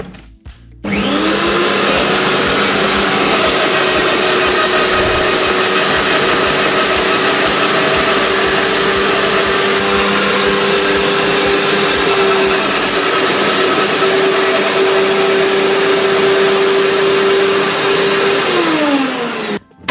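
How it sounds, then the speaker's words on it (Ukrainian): A Hyundai HYCH 2800 garden shredder runs loud and close, its steady motor whine and rough grinding holding for most of the clip as a thin branch is fed through, then winding down at the end. "чи подрібнить фрезерний подрібнювач від Hyundai мені тоненьку гілочку"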